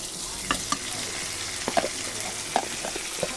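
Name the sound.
potatoes frying in a pan with spices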